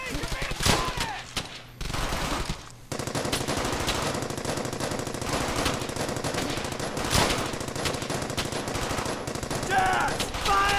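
Rapid bursts of automatic and single-shot gunfire rattle almost continuously through a World War II firefight in the shooter game Brothers In Arms: Hell's Highway, loud and close, with brief gaps and occasional shouted voices.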